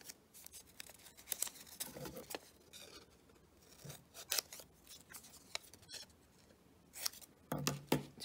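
Several crisp snips of scissors cutting through round colored paper, close by, in short irregular bursts with brief pauses between cuts and no talking.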